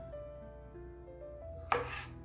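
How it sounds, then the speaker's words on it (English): Steady faint hum in a kitchen, then a single sharp knife chop through little gem potatoes on a cutting board rings out near the end. "I'm gonna start off by cutting some of these little gem potatoes up"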